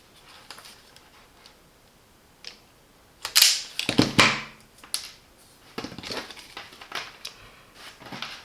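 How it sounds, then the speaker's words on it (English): An automatic wire stripper's cutter snips through a cable, a crisp crunch and snap at mid-clip, followed by several quieter mechanical clicks, no talk. "You can use the stop and cut, of course, the cable with a cutter."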